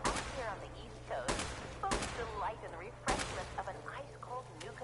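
Gunfire in Fallout 4, several sharp, loud shots spaced about a second apart, with a person talking between them over a steady background hum.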